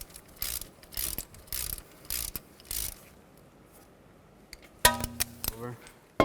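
A ratchet snugs up the ABS sensor bolt on a 2013-19 Nissan Sentra front hub, giving quick bursts of ratcheting clicks, then a short pause and a tighter run of clicks near the end.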